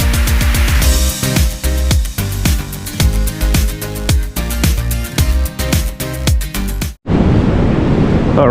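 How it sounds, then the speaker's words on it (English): Surf at Caves Beach, Newcastle, Australia, on a gloomy warm day bursts in as a loud, wide wash of breaking waves for the final second or two, after a long stretch of rhythmic music. "we've made it down to Caves Beach"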